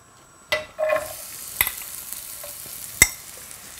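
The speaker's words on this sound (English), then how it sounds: "And to the pan, I'm going to add my onions." Onions added to a pan of hot rapeseed oil for a mushroom curry: a sudden hiss as they hit the oil, then a soft ongoing sizzle with a few clinks and stirring knocks, nearby, without talk.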